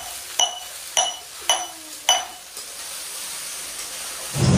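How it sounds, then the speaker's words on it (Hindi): A metal spoon stirs salted rice frying in a pan, giving four clear clinks against the pan over a steady sizzling hiss, close and fairly loud. "अब मस्त चलाएंगे, अब हो जाएगा हमारा चावल फ्राई"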